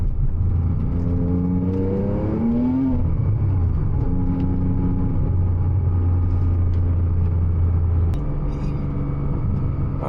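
Porsche Cayman 987 Turbo with about 700 hp accelerating at night on slick tires, a loud continuous engine drone rising in pitch through a gear, dropping at the shift, then holding a steady strong roar.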